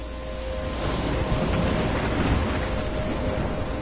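A thunderstorm with heavy rain in the video game Life is Strange, a steady dense roar of rainfall with low rumbling underneath, continuous and loud throughout, with no voices.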